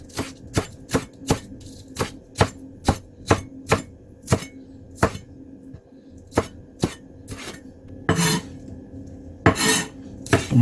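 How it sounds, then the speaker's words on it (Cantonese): Spring onions chopped with a knife on a board: a steady run of sharp, close knocks at an even rhythm, followed by a few louder, scraping strokes near the end, with no voices. "咁葱花就切碎啦"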